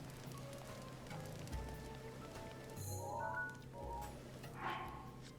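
Steady rain in the Zelda Breath of the Wild game world, a soft continuous patter of drops on surfaces with faint tonal game sounds and chimes layered over it.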